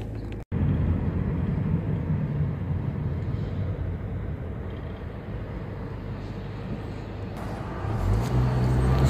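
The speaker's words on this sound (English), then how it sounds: "Big truck is turning." A big truck turns nearby with a loud, steady low rumble of engine and road noise. The rumble holds for the full stretch and swells louder near the end.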